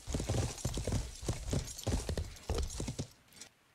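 Hooves clop loudly and rhythmically in quick pairs as a horse moves in the medieval game Life is Feudal, the footfalls close and dominant before fading out near the end.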